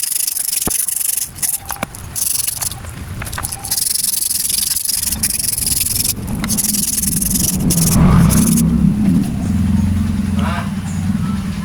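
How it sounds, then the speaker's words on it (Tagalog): Sandpaper rubbing a plastic part of a Camel wall fan by hand, a steady close scratchy rasp running throughout, with engine-like traffic rumble underneath and a voice talking over it. "So naliha na natin."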